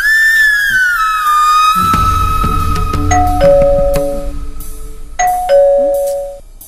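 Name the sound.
doorbell ringing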